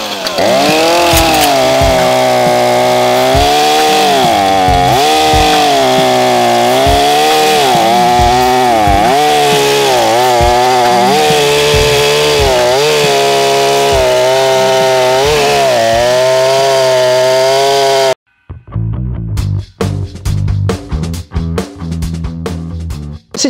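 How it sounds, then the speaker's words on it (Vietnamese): Two chainsaws, a Japanese Echo CS501 and a Chinese Reload 750, run loudly and steadily, the pitch rising and falling as the throttle works, then cut to a few sharp clattering bursts. "Hôm nay chúng tôi có hai chiếc cưa xích"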